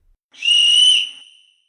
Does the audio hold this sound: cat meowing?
no